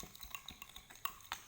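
Faint, close stirring of a slime mixture after saline solution is added, a quick series of soft wet clicks and light scrapes against a container in an irregular rhythm.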